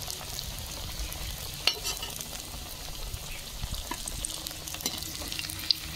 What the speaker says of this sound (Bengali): দেখুন মোচার চপ ভাজা হয়ে গেছে